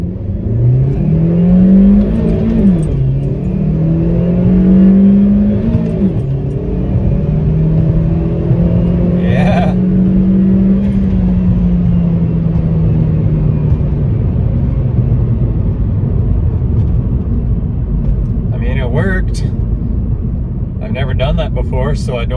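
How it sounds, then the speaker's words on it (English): Chevy Sonic RS 1.4 Turbo with a Trifecta tune accelerating hard with the throttle held flat through gear shifts; a loud, close engine drone rises and dips with each shift, with brief bursts of talk over it. "I'm going to take off, and then I'm going to try shifting without lifting my foot off the gas"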